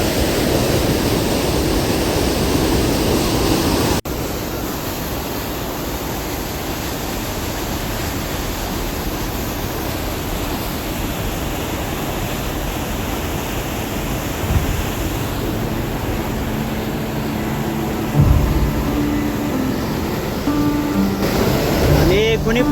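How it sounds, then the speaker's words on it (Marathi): Water released from Kashyapi Dam in Nashik rushes fast under high pressure, a dense, continuous roar of torrent up close, with someone talking intermittently over it. "हे पाणी या मार्गे येऊन येतो आणि किती फास्ट येतो बघा तुम्ही."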